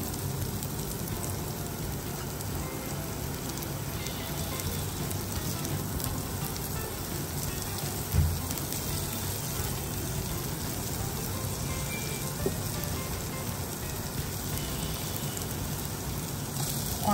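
Chicken roll filling sautés in about a tablespoon of oil, a continuous dense sizzle that stays even and close for the whole stretch, with no talking.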